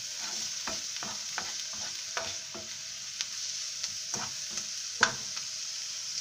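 Onions frying in a pan with a constant soft sizzle, broken by a dozen or so scraping stirs at an uneven pace and one sharper clack near the end. Close, moderate and with no voices.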